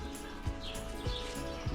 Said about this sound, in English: You hear all those birds there? They're trapped in there.